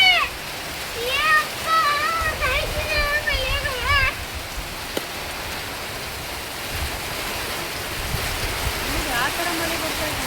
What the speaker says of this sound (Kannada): ಯಾವ ಥರ ಮಳೆ ಬರ್ತೈತಂತ